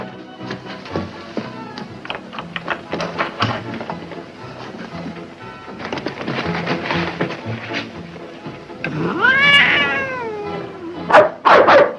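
A cat meows in a classic Kirk Douglas Western film. Several seconds of people talking come first, then a drawn-out, rising-and-falling meow close up near the end, followed by a couple of shorter cries.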